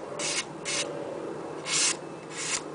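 A steel knife blade drawn across fine sandpaper, giving four short, close hissing rasps spaced a bit under half a second apart against a quiet background.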